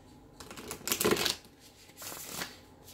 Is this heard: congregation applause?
no